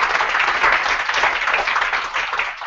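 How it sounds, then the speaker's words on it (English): Applause from an audience at the 2014 Algerian Paper of the Year awards ceremony, a dense, steady wash of clapping that stays loud and even from start to finish, with no voices over it. "So a round of applause for both papers,"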